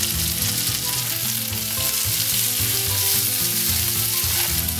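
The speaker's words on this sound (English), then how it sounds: "once your chorizo has been cooking for about 2 to 3 minutes, we're going to add our garlic for about 30 seconds" Chorizo sizzling steadily in a pan with garlic just added, a dense continuous frying crackle close by with occasional stirring, no talk.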